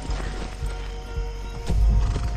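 Video game horse hooves clip-clop in a steady rhythm as a horse trots along in Far Cry 6, with a low rumble swelling near the end.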